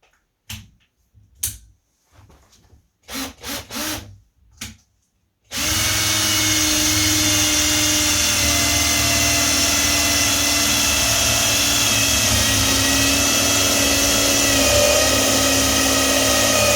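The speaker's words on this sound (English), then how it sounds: "done a pilot hole through this" A power drill bores a pilot hole through a door for a handle. A few dry clicks and taps come first, then the drill whines loudly and steadily, close by, for over ten seconds.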